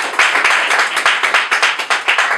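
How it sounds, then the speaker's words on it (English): Audience applause at a staged debate event, a dense, loud, continuous patter of many hands clapping with a steady rhythm throughout, no voices over it. "Give him another round of applause."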